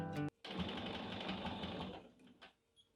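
A sewing machine stitches a dish towel and pot holder, backstitching at the end of the seam: a brief burst, a pause, then a steady close whirring run that slows and fades, followed by a few light clicks.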